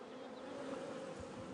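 Dense, steady buzzing of a large honeybee colony at a hive with many foragers and an actively laying queen, a close, continuous drone with no voices.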